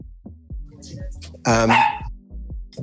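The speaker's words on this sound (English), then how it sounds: "Hold on, my dog's barking." A dog barks several times indoors in short sharp bursts, fairly close, with one louder yelping bark in the middle.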